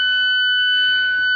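Steady, piercing electronic warning beep from an Alfa Romeo 4C as the ignition is switched to accessory mode, a loud continuous tone with a bright overtone, sustained alone without talk for the whole moment.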